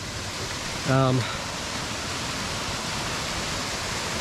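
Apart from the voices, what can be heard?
waterfall coming down a rocky mountain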